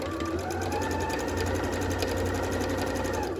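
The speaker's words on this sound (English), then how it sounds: "I'm going to pull and stitch a straight line." A sewing machine runs steadily and close up, stitching a straight line to sew elastic into a pair of pants, its even, rapid mechanical whir continuing without pause and alone throughout.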